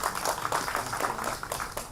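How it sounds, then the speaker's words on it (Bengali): An audience at a Satyajit Ray quiz event at Nandan claps, giving a dense, steady burst of applause from many hands that lasts two seconds. "একটু জোরে হাততালি হোক।"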